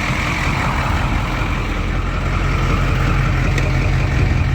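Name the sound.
old school bus engine running after cold start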